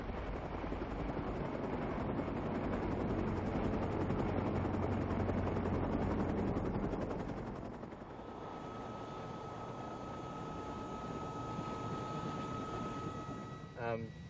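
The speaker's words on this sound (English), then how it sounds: "As the helicopters started arriving" Helicopters arrive over a rescue scene after a disaster in remote villages, their rotor and engine roar loud and continuous, then giving way to a steadier mechanical hum with a tonal whine.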